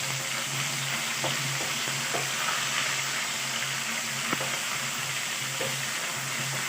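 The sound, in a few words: ginger garlic paste frying in a pan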